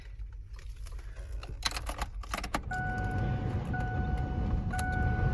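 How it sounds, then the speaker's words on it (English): A 1997 Ford Explorer with a 4.0 liter V6 and 161,000 miles cranks briefly after a few key jingles and clicks, then catches and settles into a steady, smooth idle close by. "1997 Ford Explorer. Let's start it up."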